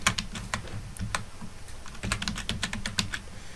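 Rapid, uneven keystrokes on a computer keyboard while typing in Microsoft Word, close and fairly clear, with short bursts of taps and brief pauses and no voices.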